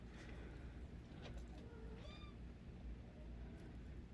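Kittens and a mother cat meow indoors, a few short, thin cries including one sliding, upward-bending call, faint against steady low noise.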